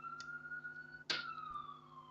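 An ambulance siren wails in the distance, a faint steady tone with a brief louder burst partway through, carrying on quietly behind a Go lesson with no talk over it.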